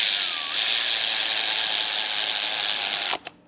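A ratchet wrench clicks rapidly and continuously while tightening bolts on a Mercedes S63 AMG engine under repair, a steady close mechanical whir that stops abruptly near the end with a couple of final clicks.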